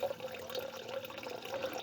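Water runs from a pipe into an outdoor swimming pool fitted with a homemade heater, a soft, steady trickle and splash heard faintly and alone.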